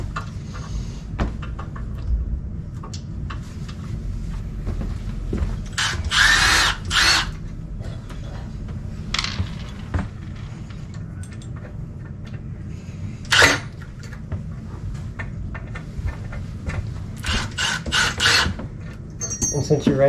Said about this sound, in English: go take the screws out of the bottom of that railing there